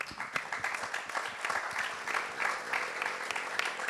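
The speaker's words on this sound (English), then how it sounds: "we should give him a round of applause" An audience at a real estate brokerage talk gives a round of applause, steady dense clapping from a crowd throughout, moderately quiet and alone.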